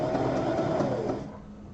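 A sewing machine stitches an embroidered rope bowl, a steady close whirring hum that runs continuously and then trails off toward the end, with no talk.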